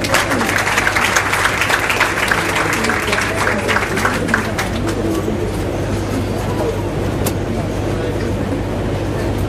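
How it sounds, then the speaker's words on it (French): Audience applause at a building inauguration ceremony, a dense, steady clatter of many hands lasting throughout, fading slightly toward the end, with a low hum and faint bird coos in the background. "Sous vos applaudissements."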